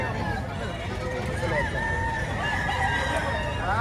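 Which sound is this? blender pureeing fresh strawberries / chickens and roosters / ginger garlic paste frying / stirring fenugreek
chickens and roosters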